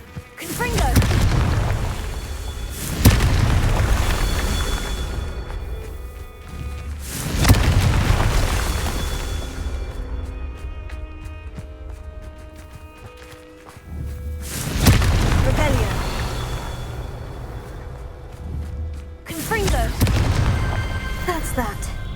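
Repeated Confringo fire-spell blasts in the video game Hogwarts Legacy, about five heavy booming explosions spaced a few seconds apart, each with a deep rumbling decay under a continuous game soundscape.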